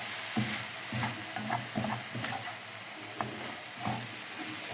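Potato and egg filling fries in a pan with a constant sizzle, broken by regular scraping strokes of a spoon stirring it close by.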